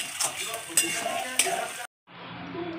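Soft sizzling with scraping and stirring in a pan, a few sharp clicks of a utensil, a brief silence, then the sizzle resumes.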